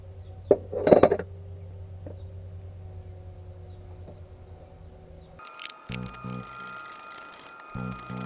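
A 7/8 wrench handled while working on a CASE 580C loader brake, a few light metallic clinks near the start over a low hum, then clattering tool and metal knocks later.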